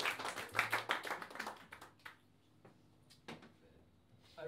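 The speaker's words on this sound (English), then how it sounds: "All right, round of applause." Brief clapping from a small crowd, loud at first and then thinning out into a few scattered claps and quiet.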